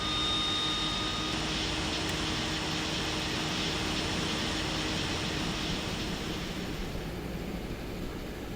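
Simulated DHC-6 Twin Otter turboprop engine starting in a flight simulator game, a steady broadband roar with a faint high whine, even and sustained, no talk over it.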